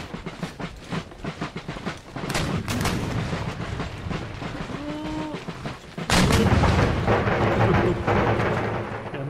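Artillery fire in Empire: Total War during a battle push: repeated booming cannon shots and crackling volleys over a rumbling, clattering battlefield bed, growing louder and denser in the second half, with no talk.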